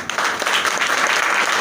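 An audience breaks into steady, dense applause at a leadership speech event, loud and close, holding evenly throughout.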